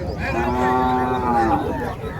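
Native bulls at a livestock market moo in a long, drawn-out low call lasting about a second and a half, loud and close against steady crowd murmur.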